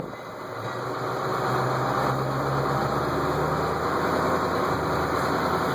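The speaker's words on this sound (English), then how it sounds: "You listen to that 8-2 Detroit" A Detroit Diesel 8.2 engine in a 1989 Chevy Thomas bus runs steadily as the bus drives, giving a loud, continuous low diesel drone close to the microphone with no talking.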